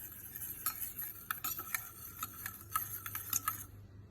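A homemade hair oil mixture is stirred in a jar, a quiet run of light, rapid spoon clicks and taps against the container, ending in silence.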